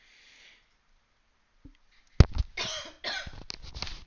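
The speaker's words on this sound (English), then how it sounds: "sorry, I keep coughing." After a near-silent stretch and a faint sniff, a person coughs several times in a rough, close burst, followed by a few more hacking coughs.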